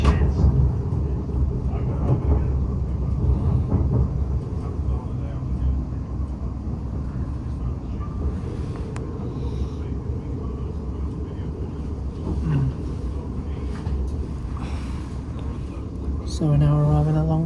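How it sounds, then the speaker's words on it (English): A West Midlands Railway Cross City Line train arrives at Longbridge station, a steady low rumble of running gear and motors filling the cabin, with a rising tone near the end as it slows, under a spoken announcement. "So we're now arriving at Longbridge Station."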